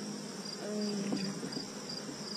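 Honey bees buzz steadily around an open hive, a continuous insect drone with a faint hum that swells slightly midway, close and fairly quiet.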